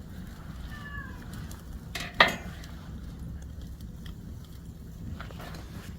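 A neighborhood cat, drawn by the smell of cooking meat at an evening meal, gives a brief, faint meow, followed by a sharp clink of dishes amid quiet background noise.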